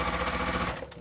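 A sewing machine stitches a quilt, a close, steady rapid clatter of the needle running evenly before tapering off at the end, no talk.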